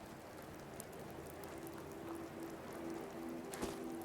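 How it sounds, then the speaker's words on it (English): Steady rainfall pattering across the ground in the Fallout 4 game world, a soft continuous wash of drops that holds level throughout, with a faint low hum running underneath. "Good old rain, some nice relaxing ambience."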